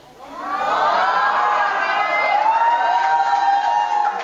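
An audience at a Maulid Nabi religious lecture breaks into loud, sustained cheering and shouting that swells quickly and holds for several seconds.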